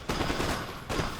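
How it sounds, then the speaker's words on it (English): Musket volleys in an American Revolution battle game, two loud rolling fusillades of massed gunfire, the first sustained for most of a second and a second burst near the end. "Just keep firing away."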